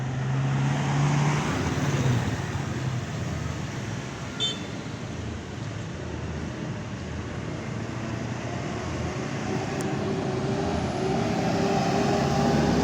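Buses roll into the Purabaya Bungurasih bus terminal in Surabaya in the late afternoon, a steady rumble of bus engines and traffic with a brief horn tone early on and faint beeps.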